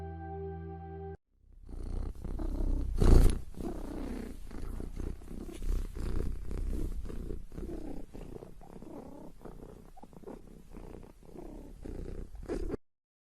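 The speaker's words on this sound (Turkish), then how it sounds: "Bu mırıldanmanın ne olduğunu merak edenler için kısa bir mırıldama sesi gösterelim." Close, continuous purring of a house cat, a low rhythmic rumble lasting several seconds, with a brief thump early on.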